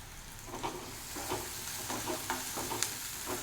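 Mutton liver sautés with salt in a pan over a medium flame: a steady close sizzle broken by repeated scraping stir strokes at an irregular pace.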